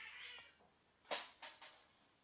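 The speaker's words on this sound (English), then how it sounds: "My cats are currently fighting." Two house cats fight nearby: a drawn-out low yowl fades, then a few sharp, short hisses and squalls burst out in quick succession, fairly faint.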